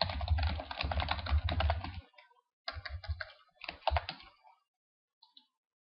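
Typing on a computer keyboard while entering a report name in Oracle APEX 5, with a dense burst of key clicks for about two seconds, then shorter bursts after a pause, fairly close and alone.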